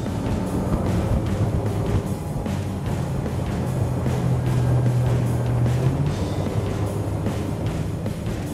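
A Mercury 115 EFI outboard motor drives a boat at speed, a steady loud engine drone mixed with rushing water and wind buffeting, rising slightly in pitch midway.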